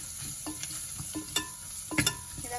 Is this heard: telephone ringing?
no